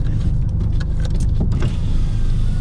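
An electric window lowering on a Honda Civic FK2 Type R at a drag raceway, a steady motor whir over a loud idling engine and interior rumble, close and continuous for a couple of seconds.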